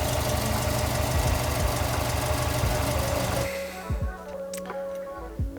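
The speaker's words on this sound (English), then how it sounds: "I got an exhaust leak." A Subaru WRX with a Borla Hush exhaust and an exhaust leak idles with a rapid, regular ticking chug close by, then the engine shuts off partway through, leaving a few faint clunks.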